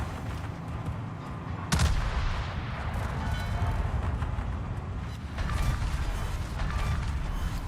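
Naval guns firing in the video game World of Warships, heavy booming salvos over a dense rumbling battle mix with mechanical clatter, loud and repeated.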